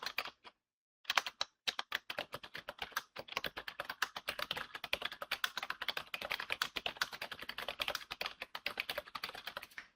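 A computer keyboard clicks away in steady, fast typing with dense, light key taps and a short pause near the start, quiet and close, with no voices.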